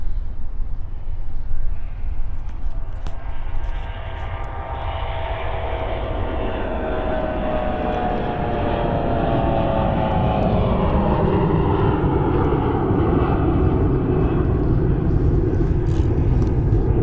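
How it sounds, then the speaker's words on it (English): A Bombardier CRJ jet takes off at Munich Airport, its engine roar swelling from a low rumble into a loud, sustained whine that stays strong to the end, with no voices over it. "As we watch the CRJ take off"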